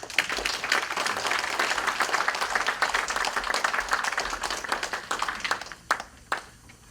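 An audience at a lecture gives dense, sustained applause to welcome an invited professor, steady clapping from many hands that thins into a few scattered claps near the end.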